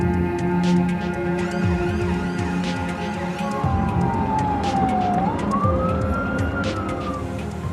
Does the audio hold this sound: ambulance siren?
yes